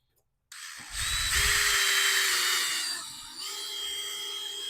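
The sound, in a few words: drill with masonry bit drilling out broken shutter fasteners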